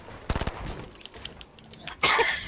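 Video game gunfire: a quick burst of several rapid shots early, scattered softer pops, then a louder blast near the end, close and sharp.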